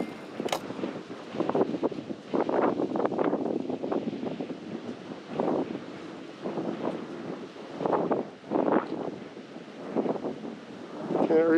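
Steady wind gusting across the microphone, with rumbling buffeting bursts rising and falling throughout, loud and close.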